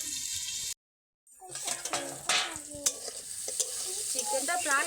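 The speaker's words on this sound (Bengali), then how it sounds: "আমি দিয়ে দেব মাখিয়ে রাখা চিকেনটা। একবার দুবার নেড়ে নিয়ে আমি ঢাকনা দিয়ে দেবো।" Marinated boneless chicken sizzles in a pan while a spatula stirs it, giving soft scraping and clinking and a steady frying hiss after a brief silent gap.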